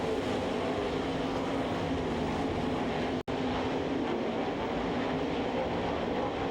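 Sprint cars racing around the Knoxville speedway at the Knoxville Nationals, heard as a dense, continuous roar of engines with a brief dropout in the middle.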